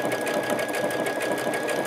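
Sewing machine stitching a half-triangle piece of fabric, running steadily with a fast, even whir and rapid needle rhythm throughout, close and clear with no talk.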